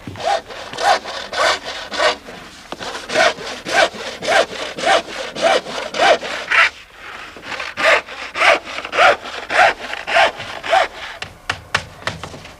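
Hand saw cutting through paired wooden boat planks (strakes) in a Shannon boat builder's workshop, steady rhythmic back-and-forth rasping strokes, loud and close, with a short pause midway before sawing resumes.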